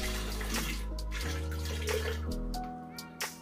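Water pours steadily into a cooking pot in a home kitchen while making meat pies, a continuous splashing flow heard over a background of sustained tones, with a few faint clinks near the end.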